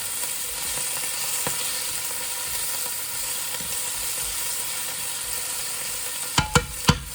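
Onions, garlic and fresh ginger sizzle steadily in a hot pan, a continuous close frying hiss, with a few sharp knocks of a utensil against the pan near the end.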